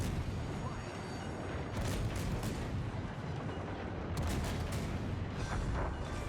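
Naval guns on the destroyer Akizuki fire HE shells in World of Warships, sounding as a continuous heavy roar of loud, booming salvos with two sharper blasts standing out.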